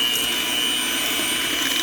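An electric mixer runs steadily through banana bread batter, a loud, close, continuous whirring drone with no variation across its short length and no voices.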